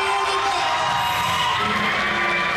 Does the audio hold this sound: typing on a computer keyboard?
no